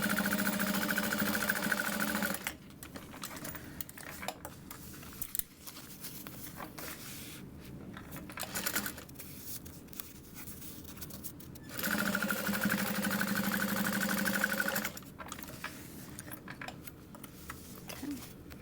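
Sewing machine topstitching a fabric wristlet, running in steady buzzing bursts of a few seconds each with quieter pauses and faint handling noises between, close and alone.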